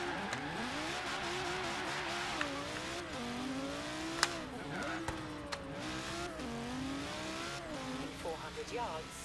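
In Forza Horizon 3, a Lamborghini Gallardo's V10 engine drones and wavers up and down in pitch while spinning donuts, with tire squeal and someone talking over it throughout.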